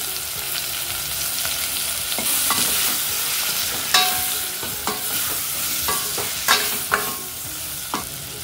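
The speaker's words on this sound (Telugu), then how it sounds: "ఇప్పుడు టొమాటో కొద్దిగా సాఫ్ట్ అయ్యేంత వరకు కుక్ చేసుకోవాలి" Chopped tomatoes with red chili powder cook in a pan for a radish sambar, giving a steady close sizzle and frying hiss throughout, with several sharper scrapes and clinks as the spoon stirs.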